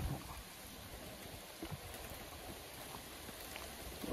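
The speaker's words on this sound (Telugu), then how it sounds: "వర్షం వస్తుంది" Steady rain falls at a riverside viewpoint in Yanam, a soft continuous patter of drops on surfaces with a low watery rumble beneath, moderately faint and without voices.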